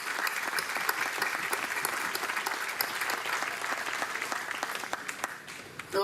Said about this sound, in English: I'd like to give a round of applause, please, to all the families that are here as well.